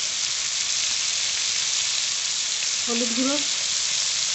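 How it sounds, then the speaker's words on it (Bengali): Potato pieces frying in hot oil in a pan for a fish curry, a steady close sizzle throughout with a brief voice speaking near the end. "আলু দিয়ে বান মাছ দিয়ে তরকারি রান্না করব, তাই আলু ভেজে নেব।"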